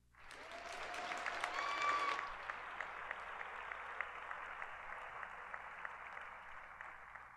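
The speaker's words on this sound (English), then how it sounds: "allow our graduating students to recognize our faculty and staff for their support with a round of applause" Commencement audience at a spring undergraduate graduation gives a sustained round of applause for faculty and staff, swelling briefly then settling into steady, fairly distant clapping from a large crowd.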